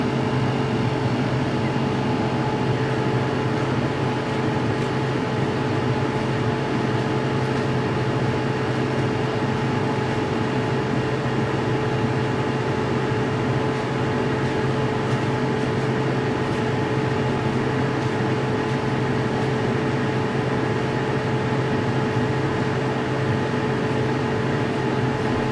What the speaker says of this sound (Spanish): dejo como un minuto con el sonido del aire acondicionado en funcionamiento